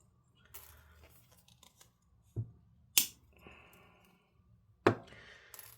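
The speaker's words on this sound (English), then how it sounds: "I just gotta cut a tiny bit off of this guy" Snips cutting a small piece off a plastic ratcheting bar clamp trigger: a few sharp, isolated snaps and clicks spaced over several seconds, close and fairly quiet, with light handling rustle between them.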